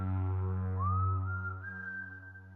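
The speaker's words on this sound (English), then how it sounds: "I hang out near the dark roads of South Dakota at night, and whistle to lure victims closer." Eerie whistling in a scary story set on dark roads of South Dakota at night, a faint, sustained tone that slides upward and holds over a low steady drone.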